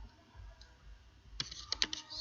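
Several quick clicks of typing on a computer keyboard, close and quiet, arriving in a short irregular burst after a near-silent stretch.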